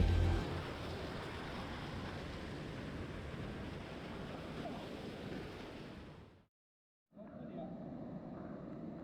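Rushing water at a waterfall at Kroke E-Dok in Saraburi, a dense steady roar close to the microphone that cuts out briefly near the end and then returns slightly quieter.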